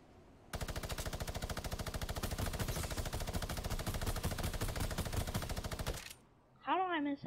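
A long, loud, steady burst of rapid automatic gunshots in Fortnite Battle Royale Chapter 2, evenly spaced shots lasting several seconds, then cutting off abruptly as a brief electronic game tone follows.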